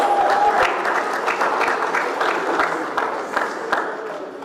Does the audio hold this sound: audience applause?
yes